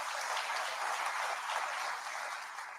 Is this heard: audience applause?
yes